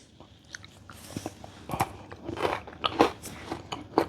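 Close, crisp bites and crunching into large cocoa-stuffed pretzels, a series of sharp crackly snaps spread unevenly across the few seconds with no talking.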